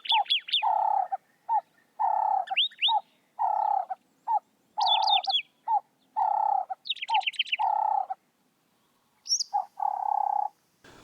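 Birds calling around a South African safari lodge, a run of repeated mellow whistled notes alternating with higher chirpy trills, fairly close and clear against a quiet background with no talking.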